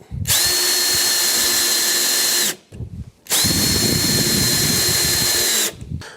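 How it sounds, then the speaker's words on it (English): A power driver runs two long, steady bursts, driving bolts through wear bars on a Shappell Jet Sled HD (Kodiak) ice sled, loud and close with a short pause between them. "we can get our driver and just put those in there real quick"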